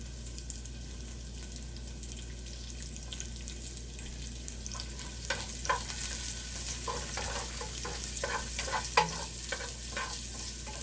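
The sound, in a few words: onion sautéing in hot oil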